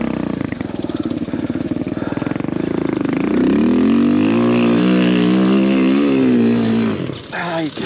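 A Suzuki DR200 motorcycle engine works hard on a steep hard enduro track, a loud close buzzing drone that rises in pitch as the throttle opens on a climb, then cuts away abruptly near the end.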